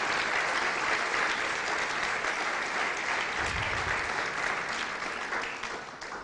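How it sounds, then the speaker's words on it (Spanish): Applause from a church audience fills the room, dense and loud with many hands clapping at once, steady for several seconds before starting to thin toward the end. "Si me le puede dar un aplauso al Señor"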